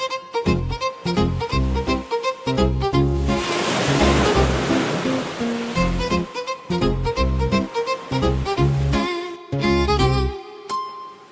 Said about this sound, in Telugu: ఈ గాలి, ఈ అలలు, ఈ సముద్రం